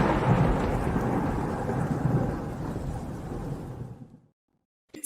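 A thunderstorm sound effect with a loud rolling rumble and heavy rain hiss that fades out near the end, leaving silence.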